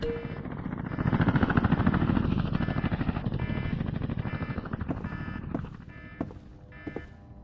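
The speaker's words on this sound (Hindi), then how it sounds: "हेलीकॉप्टर।" A helicopter's rotor chops steadily in the video game Night Shift at the Haunted Station, with a dense, rumbling drone that fades somewhat toward the end, where a few sharper clicks stand out.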